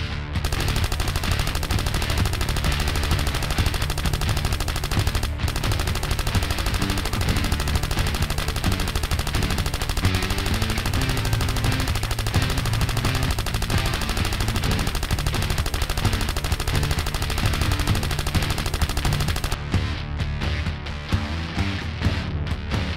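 Animated Aftermath Kalashnikov 47 firing, dense sustained machine-gun bursts rattling loudly almost nonstop, with a brief pause around the midpoint and the fire thinning near the end.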